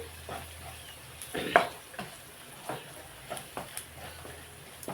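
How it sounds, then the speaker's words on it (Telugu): A spoon scrapes and stirs coriander and cumin powder into a pan of mutton bones curry, irregular clinks and scrapes over a soft low sizzle, close and fairly quiet. "స్పూను ధనియాలు జీలకర్ర పొడి వేసుకుంటాం ఇవి కలిపేసి"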